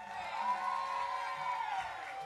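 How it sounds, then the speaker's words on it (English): Audience at a Baltimore Boom Bap Society hip-hop show cheering and whooping, a faint, steady crowd roar with a sustained high shout rising and falling over about two seconds. "Make some noise for yourself for being here for the 100th."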